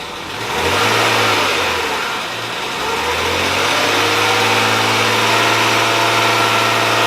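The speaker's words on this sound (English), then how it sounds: "let's give it some revs and see" A BMW E36 car engine, from an abandoned car, revs up from idle, climbing in pitch, dipping briefly, then holding a steady high rev, close and loud with no talking.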